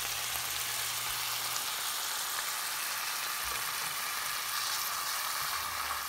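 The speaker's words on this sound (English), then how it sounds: "Cook down the tomatoes, and now I'm gonna add a little red wine" Red wine poured into simmering tomato sauce for shrimp and grits, giving a steady, close sizzle and bubbling hiss that holds evenly throughout.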